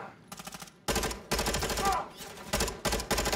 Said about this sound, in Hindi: मैं तो शूट कर रहा हूं